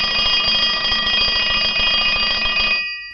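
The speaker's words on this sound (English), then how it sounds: "That's the sound of an old telephone ringing." An old telephone rings with a rapid metallic bell trill, loud and close, sustained for under three seconds before cutting off abruptly.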